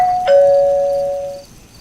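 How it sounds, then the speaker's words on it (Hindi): A doorbell rings once with a clear two-tone ding-dong at night, the bright tone ringing out and fading over about a second in a quiet room, with no voices. "एक बार फिर से घंटी बजी"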